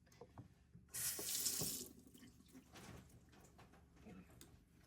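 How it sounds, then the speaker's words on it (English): A kitchen tap is turned on and water splashes into a sink for hand washing, starting loud and then settling into softer rinsing and rubbing sounds, quiet overall with no talking. "Let me just wash my hands."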